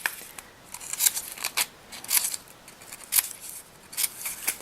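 Scissors snip through layers of paper card for a pop-up posies greeting card, a series of sharp, close crisp cuts coming every half second or so, with quiet pauses in between.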